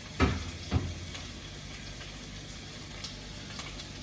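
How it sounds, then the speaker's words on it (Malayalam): Chicken pieces dropped into a hot pan with about two teaspoons of sunflower oil, giving two sharp sizzling bursts early on that settle into a soft, steady frying hiss. "ഇപ്പോൾ അതിലോട്ട് ചിക്കൻ ഇടാം."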